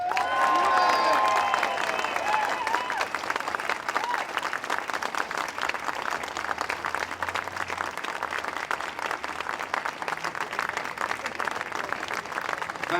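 Outdoor crowd applauds and cheers at a blue plaque unveiling for Pete Ham, sustained clapping continuing for the whole stretch, with a whistle or squeal near the start and voices mixed in.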